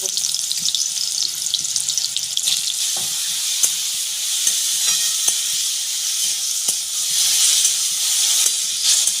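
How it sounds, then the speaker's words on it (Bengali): Mushrooms fry in oil in a wok with a loud, steady sizzle and hiss throughout, broken by occasional light clicks of stirring. "কড়ার মধ্যে তেল দিয়ে দিচ্ছি মাশরুমটা প্রথমে ভেজে নেব"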